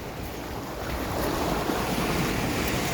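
Sea waves wash in at a beach, a soft steady surf hiss that swells louder partway through, mixed with light wind.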